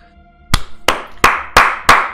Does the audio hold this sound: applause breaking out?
yes